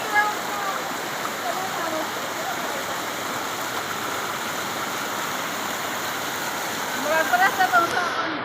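A stream flows steadily nearby where a family bathes, with a continuous rushing water sound throughout and brief voices near the end.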